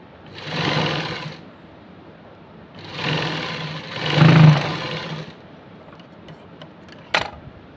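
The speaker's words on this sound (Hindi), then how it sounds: "फिर दूसरे साइड से भी ऐसे ही स्टिचिंग कर लेती हूँ" A sewing machine stitches a sleeve onto a suit in three short close bursts of whirring stitches separated by pauses, ending with a sharp clack.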